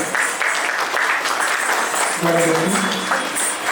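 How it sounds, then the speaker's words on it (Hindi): Audience applause at a dance school's anniversary event, a full round of clapping with a voice briefly speaking over it partway through. "जोरदार तालियां"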